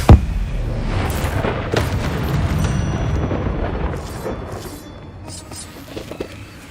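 A fire spell is cast in Hogwarts Legacy, opening with a sharp burst and then a rumbling, roaring whoosh that fades over several seconds, with a voice speaking over it.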